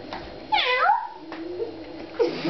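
A child imitates a cat, giving a few drawn-out, sliding meows with short pauses between them, close and fairly loud, with no other talk.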